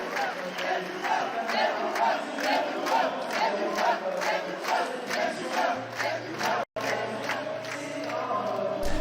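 A French esports crowd roars and chants in a large arena, rhythmic rising cheers and pulsing shouts filling the space continuously, with a brief cut near the end.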